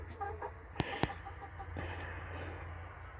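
Chickens at a rural cabin cluck softly and intermittently near scattered cabbage. There are a couple of sharper clucks over a low outdoor hum, and no one speaks.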